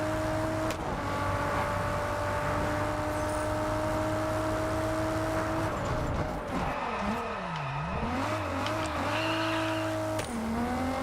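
A car engine in the racing game Test Drive Unlimited Solar Crown holds a steady drone, then dips and swoops through gear changes and revs before settling back to a constant hum, with faint tire noise.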